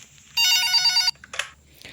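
An electronic telephone bell rings in a short loud trill inside the Pikabu Indonesian horror video game, followed by a brief quieter buzz and click.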